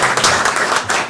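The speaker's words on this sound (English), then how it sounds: "another round of applause" Brief loud applause from a nearby audience, dense clapping that swells and dips over about a second.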